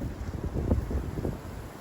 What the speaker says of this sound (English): Oh, you hear that wind? That was a good wind gust.